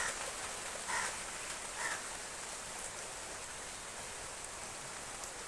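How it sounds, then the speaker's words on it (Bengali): Steady rain falling outside a home where a basin has been set out to catch leaking rainwater, a soft continuous hiss with a few brief louder patters, moderately near and without talk. "দেখো কেমন বৃষ্টি হচ্ছে"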